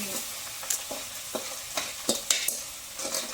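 Fish curry stirred and frying in a pan, with a steady low sizzle and several sharp scraping clicks of a utensil against the pan at an irregular rhythm, close and fairly quiet, with no talking.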